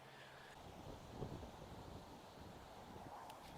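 Steady wind rushes and buffets a microphone on a golf course, a broad blustery noise that fills the whole clip with no other clear sounds.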